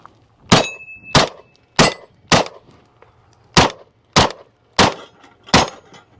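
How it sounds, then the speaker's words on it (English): Eight sharp gunshots from a CZ Scorpion 3+ 9mm fired at steel targets about 10 yards away, evenly spaced at roughly two-thirds of a second, each a loud cracking report with a ringing metallic edge, no voices. "Let's shoot the steel."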